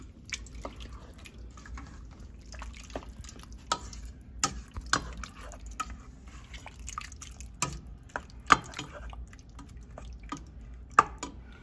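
Okra and tomatoes simmering in a pan on a medium-heat stove, giving off scattered soft pops and drips at an irregular pace, quiet and close with no talking.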